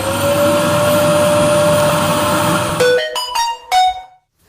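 A recorded vacuum cleaner drones loudly and steadily with a whining tone, then cuts off into a few short bursts as it is switched off and on.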